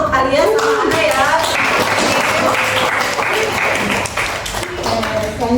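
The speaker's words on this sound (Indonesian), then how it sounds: "Oke, tepuk tangan untuk kalian sama Anda ya." Schoolchildren applauding in a classroom during a teaching session, loud close clapping that continues throughout, with voices mixed in over the hands.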